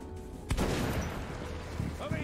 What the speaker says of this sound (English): Shotgun to face.